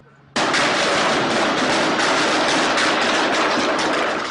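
Sudden burst of rapid, continuous gunfire erupts after a quiet moment, loud and dense, rattling on without pause.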